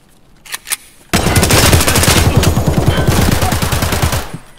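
Gunfire in Escape From Tarkov, a sustained rapid volley of loud close automatic shots after a few faint clicks, running about three seconds before trailing off.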